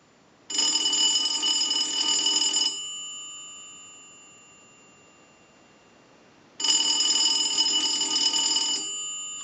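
Automatic Electric three-slot payphone bell rings in two loud, clear bursts of about two seconds each, separated by a long fading pause, as a standard ring cycle with no talking.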